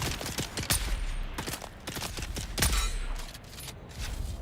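Rapid gunfire in a multiplayer shooter game, a flurry of sharp close shots with metallic clangs and pings scattered across a few seconds, dense and loud.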